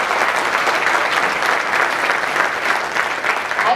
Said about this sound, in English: a resounding collective round of applause for your achievements today